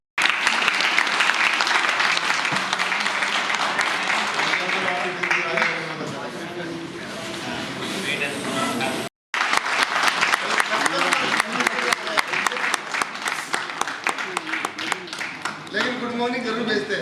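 Sustained applause fills a hall at an alumni association meeting, with dense, loud clapping that breaks off briefly, then resumes with more distinct individual claps, while voices talk over it in places.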